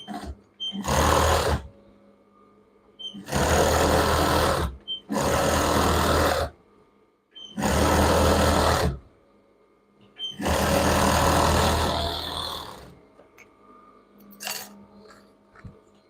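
An electric sewing machine runs in five separate loud bursts of rapid stitching on children's pajama fabric, each lasting a second or two, with short quiet pauses between and a faint click near the end.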